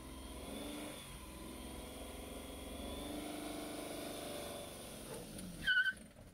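A manual car pulls away in first gear during a driving test practice, its medium engine humming steadily and rising as it accelerates, with a brief louder squeal near the end.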